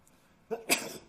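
A single short sneeze during a board of education meeting, close and fairly quiet, in an otherwise quiet room.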